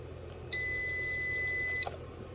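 A DeWalt jump starter box gives one loud, piercing, steady electronic beep that holds for over a second and then cuts off abruptly, heard close against a quiet background.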